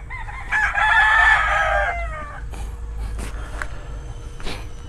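A rooster gives one loud, close crow lasting about a second and a half, followed by a few faint clucks and clicks over a low steady background hum, with no talk.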